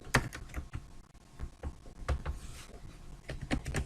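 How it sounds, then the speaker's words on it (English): Quick, uneven clatter of keys on a computer keyboard, close and fairly clear, with a couple of short pauses between bursts and no speech. "create new, type the resolution"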